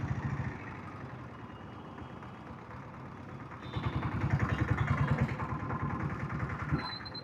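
A diesel Bullet motorcycle running after an oil service, its engine a low, steady thudding drone that rises and grows louder midway as the gears shift.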